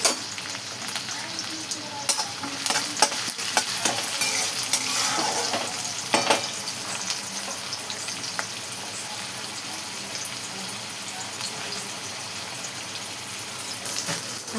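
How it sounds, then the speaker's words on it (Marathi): Onion and a small tomato fry in a kadai, giving a loud, continuous sizzle with scattered clicks and scrapes of stirring that ease off over time; no talking. "त्यामध्ये कांदा टाकून घेतला बघा. आणि इथे एक टोमॅटो टाकून घेतलेलं आहे छोटासं."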